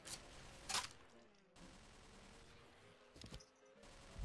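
Continuous gunfire in the video game Killing Floor, a steady rattle of shots with louder bursts standing out near the start and again later, mixed with background game noise.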